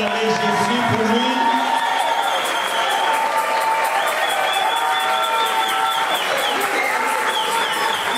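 Loud crowd cheering and acclaiming at a church night gathering, dense whoops and shouting voices over scattered clapping, sustained and energetic throughout.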